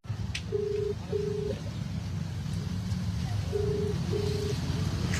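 A phone line tone rings twice in short pairs, repeating after a pause, over a steady rumble of outdoor traffic noise, as a call is placed to a traffic police office.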